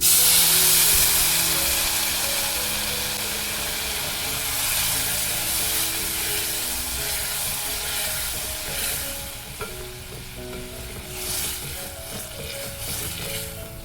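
Water is poured into a pan of deep-red fried ingredients, setting off a loud sizzle and steamy hiss that slowly settles into softer bubbling and crackling over several seconds.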